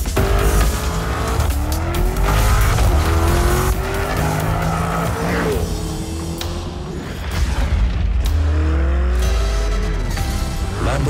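A Lamborghini Urus super sport utility vehicle drives hard, its engine roaring loudly and continuously while tires squeal and skid through sweeping turns, with revs rising and falling under a dense, close mix.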